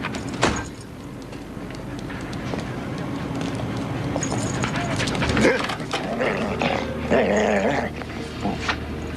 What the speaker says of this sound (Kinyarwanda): Imbwa ziri hakuno zirimo zirasuzuma ubwato